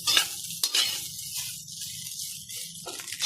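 Rice stir-fried in a pan for a rice bowl, a steady close sizzle with scraping stirs and a few sharp clanks of utensil against metal.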